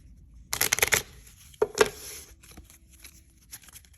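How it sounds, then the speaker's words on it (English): A deck of playing cards gets riffle-shuffled up close: a quick burst of fluttering card snaps, then a couple of sharper riffles and soft bridging shuffles fading to quiet handling. "now I'm going to get the deck out, give it a shuffle"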